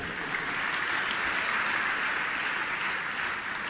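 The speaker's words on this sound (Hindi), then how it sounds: "अपने लिए एक बार ताली तो बजा दो।" Audience at a religious discourse clapping together, a soft, even spread of applause that stays at a constant faint level throughout, with no voices over it.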